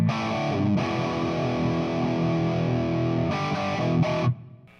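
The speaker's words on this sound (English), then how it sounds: "so with those settings, this is the hair distortion tone." Electric guitar played through a loud amp with a hair-metal distortion tone: thick, saturated chords ring out continuously for about four seconds with a brief break, then cut off abruptly, no voices.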